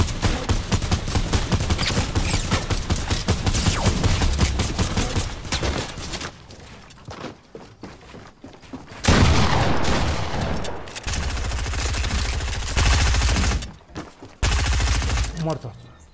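Rapid video game gunfire in a duo match, dense loud bursts of automatic fire that stop and start, with a quieter lull partway through before heavy shooting resumes.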